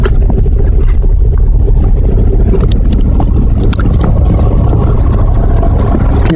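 An old red machine strains to drag a big maple log along a trail, its engine a loud, steady low rumble and roar throughout with scattered clanks and knocks, no talking.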